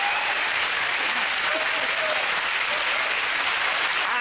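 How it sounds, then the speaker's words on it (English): A television studio audience applauds at the close of a comedy panel show, a dense, sustained wash of many hands clapping at steady loudness throughout, with no clear talk over it. "give it a round of applause for Chris, Stu and Milton."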